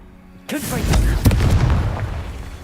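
A Confringo blast spell from Hogwarts Legacy, a single sudden loud explosive boom followed by a rumbling, crackling decay, with a voice speaking around it.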